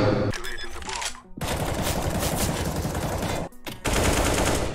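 Rapid automatic gunfire bursts loudly in a video game match, with sustained rattling volleys broken by two short pauses.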